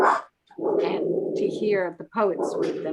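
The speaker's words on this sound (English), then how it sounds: "And I apologize for my dogs barking in the background." Dogs bark and whimper repeatedly in the background, close and loud, in bursts under a person speaking steadily.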